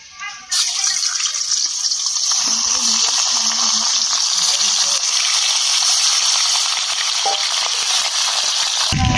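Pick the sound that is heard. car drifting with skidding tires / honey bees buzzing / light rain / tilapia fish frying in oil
tilapia fish frying in oil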